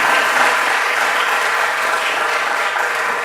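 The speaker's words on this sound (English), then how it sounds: "I want to give you a round of applause" An audience at a leadership research colloquium breaks into steady applause, a dense, even wash of clapping from many hands that fills the whole moment with no voices over it.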